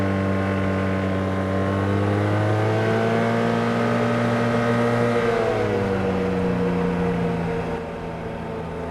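Arctic Cat Wildcat Trail 700 side-by-side engine running at a steady, droning pitch that dips and resettles midway, then drops slightly in level near the end. It is loud and close, with no talk.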